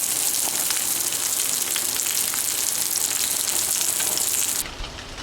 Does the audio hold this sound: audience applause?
no